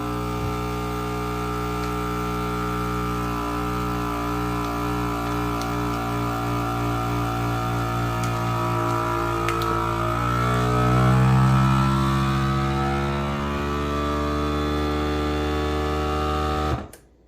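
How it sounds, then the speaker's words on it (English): A vacuum sealer working on a package of homemade beef hot links, giving a steady motor hum and drone that rises and shifts in pitch as the air is drawn out, then cuts off abruptly at the end. "I never get tired of watching a vacuum sealer do its work."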